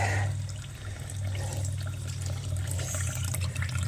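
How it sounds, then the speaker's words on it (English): Water gushes and rushes steadily into a septic tank, a constant churning flow over a deep low rumble, with no voices. "Water rolling in there."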